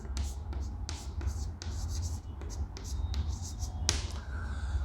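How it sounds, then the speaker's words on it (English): Pen or marker scratching out an equation during a maths revision lesson on straight lines, a run of quick taps and short strokes over a steady low hum. "We'll write down the second equation."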